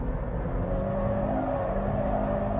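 A Toyota GT 86 engine revs hard while driving, a steady loud droning whir held at high revs from inside the car.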